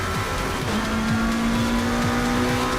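A McLaren 720S race car engine drones loud and steady at the Spa circuit in Assetto Corsa Competizione, with a sustained tone, gear-change dips and faint tire squeal, all without voices.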